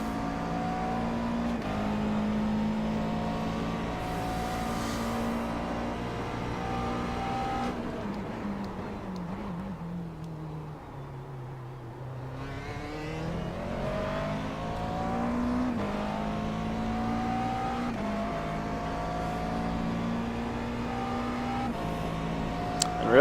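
McLaren MP4 12C race car engine in iRacing at Sebring International, a sustained loud drone that drops away as the car slows around the middle, then climbs back up with rising revs.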